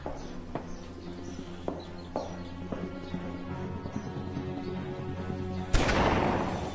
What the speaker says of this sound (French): Mais qui c'est qui tire des coups de feu?